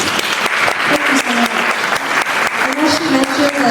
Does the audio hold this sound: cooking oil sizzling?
no